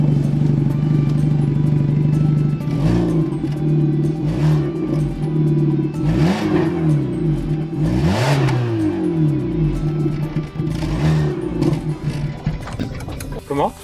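Peugeot 206 CC RC Line engine revving through a chromed exhaust tip, a loud steady drone with repeated rising and falling throttle blips, while people talk over it.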